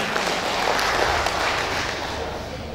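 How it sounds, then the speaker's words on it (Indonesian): Audience applause at an evening reunion gathering of former family-planning agency staff, a steady full crowd clapping that holds throughout at close range. "Tepuk tangan."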